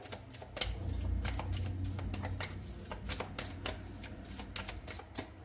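Tarot cards being drawn and flicked from the deck, a quick series of close crisp card snaps and riffles in irregular rhythm, fairly soft, with no talk.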